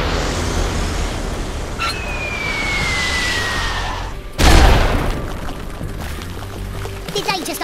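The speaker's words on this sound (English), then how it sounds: "Did they just open fire on the police?" Gunfire and explosions from the video game Worms W.M.D: a whistling projectile streak, then a loud booming blast with rumbling debris, followed by scattered smaller crackles and shots over a busy game backdrop.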